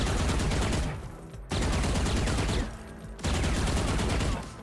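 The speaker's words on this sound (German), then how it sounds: "Das heißt, ich kann bei der Vandal beispielsweise bei den ersten 5, 6 Schuss immer schön runterziehen." Three close, loud bursts of automatic rifle spray fire from a Vandal in Valorant, each lasting about a second with rapid repeated shots and short pauses in between.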